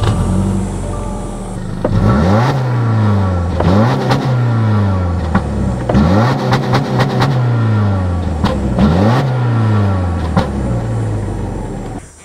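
A 2024 Subaru Impreza RS 2.5 engine revs hard several times in a row, each rise climbing sharply then dropping back to idle, loud and close with no talking.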